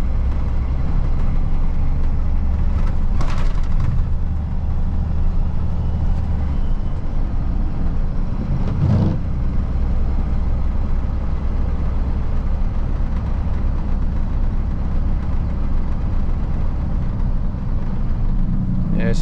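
A Freightliner truck cruises steadily along a road near construction, a continuous low engine drone and road rumble running throughout with brief louder bumps.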